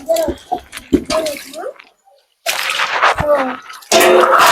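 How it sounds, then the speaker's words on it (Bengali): Pieces of desi chicken are washed in water, heard as splashing and pouring that comes in near, loud bursts with a short quiet gap between them. Brief voice-like sounds come at the start. "তো সেই চিকনগুলি এবার পরিষ্কার করে ধুয়ে নেবো"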